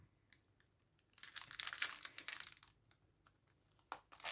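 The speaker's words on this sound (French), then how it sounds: "Je vais remettre le scotch." Adhesive tape being stuck back onto scrapbooking craft packaging, a faint crinkling and crackling rustle with a couple of light taps, close and quiet with no voices.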